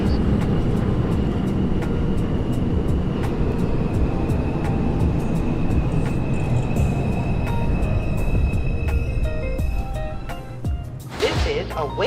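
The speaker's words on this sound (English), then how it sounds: "This is a Wakefield-bound 2 train." A Wakefield-bound New York City 2 subway train running with a loud continuous rumble and rattle of wheels and motors, a steady hum throughout, easing off near the end where a brief brighter burst of sound appears.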